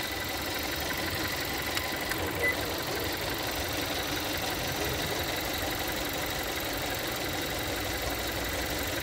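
A car engine idles with a steady, even hum and faint mechanical ticking during a fuel pressure sensor test, recorded close to the engine bay with no talk.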